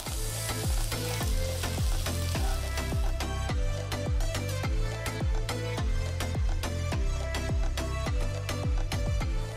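Garlic, onion, ginger and spring onion sizzle loudly in a pan, with repeated sharp scraping and stirring strokes breaking through the steady frying hiss throughout.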